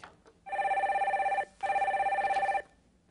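A telephone rings with an incoming call during a live stock-advice call-in broadcast, giving two loud electronic ring bursts with a short gap between them and a brief quiet tail afterward.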